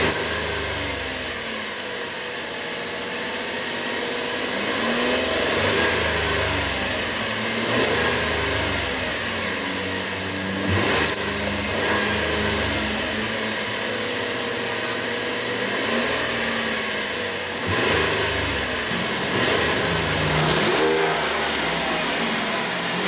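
A 2015 Chevrolet Colorado's 3.6 liter V6 idles steadily and is revved repeatedly, the engine note rising and falling in several loud, close bursts with no talking.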